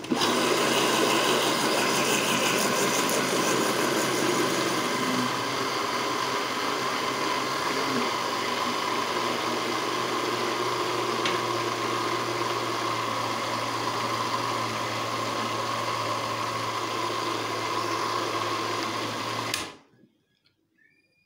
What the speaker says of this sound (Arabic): طبعا نحط خلاط على سرعة منخفضة.